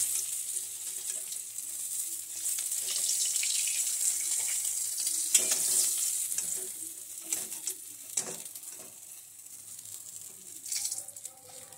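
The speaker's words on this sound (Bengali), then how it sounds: "এই যে 3টে মাছ দিয়ে দিয়েছি, এইগুলো ভাজা হবে" Small fish sizzle steadily in hot oil in a home kitchen, a loud, continuous crackle through the whole stretch with occasional clinks and stirring sounds and no talking.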